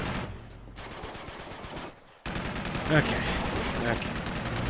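Gunfire in the Uncharted 2 war-torn city level, a steady crackle of rapid shots running under a man's speech, briefly dropping out before resuming loud and dense.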